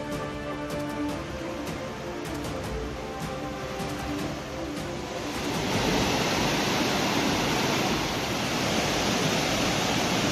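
Manimuthar waterfall in Tirunelveli pours with heavy flow after rain, a dense, steady roar of rushing water that swells louder and fuller midway through.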